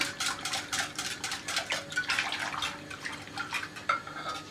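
Batter of oil and yeast being stirred in a bowl, giving a continuous wet, clattering swish with rhythmic scraping strokes at close range. No one speaks.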